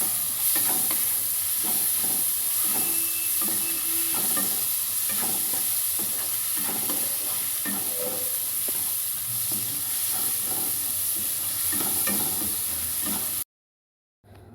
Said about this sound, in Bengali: ভালো করে মশলাটাকে এই গ্রেভির সাথে, সবজির সাথে কিন্তু ভালো করে নাড়িয়ে যেতে হবে।